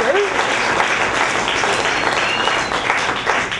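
An audience breaks into loud, dense applause for a runner who is a bilateral above-the-knee amputee, a continuous wash of clapping that holds steady, with voices blended in.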